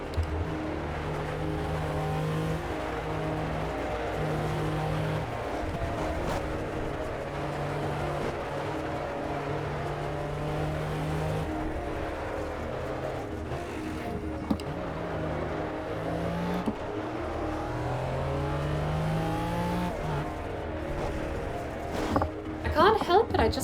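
Race car engine in a racing video game hotlap, revving up and down through gear changes continuously, with throttle lifts and a tire squeal near the end, with a voice talking over it.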